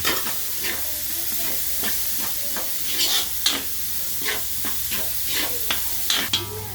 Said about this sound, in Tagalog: ilalagay na natin ang sibuyas kasi makula na yung bawang. Gisa natin mabuti.